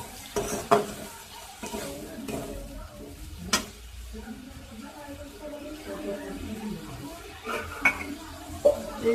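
Fish frying in a pan in a home kitchen gives a soft, low sizzle, broken by intermittent clinks and scrapes of a utensil against the pan.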